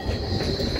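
A Blackpool tram's wheels screech along the North Prom, a sustained high metallic squeal over steady rolling rumble and faint track clatter, close and loud throughout.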